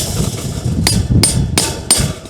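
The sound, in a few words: cold chisel hammered through metal wire mesh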